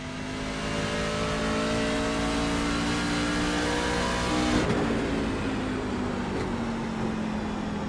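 A NASCAR truck at New Hampshire Motor Speedway in the iRacing sim holds a steady, loud engine drone under throttle, with a short sharp jolt around the middle before the engine note carries on.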